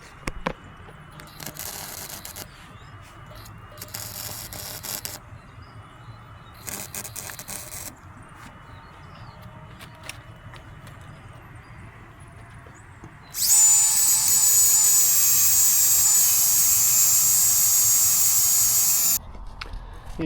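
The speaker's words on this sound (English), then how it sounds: "So we're just going to get the weld in." A cheap gasless MIG welder works on a steel narrowboat hull, with a few short crackling bursts followed by one long, loud, steady hissing crackle of the weld before it cuts off.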